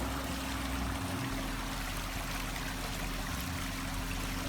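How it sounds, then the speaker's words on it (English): A steady, peaceful waterfall rushes with constant broadband noise, close and fairly loud, with a faint low hum underneath and no voices. "Let you get some peaceful waterfall going there."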